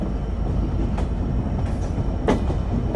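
Simanta Express night train pulling out of Mobarakganj railway station in Jhenaidah district, heard from on board: a heavy, continuous rumble with close, rhythmic wheel clatter and brief metallic bursts.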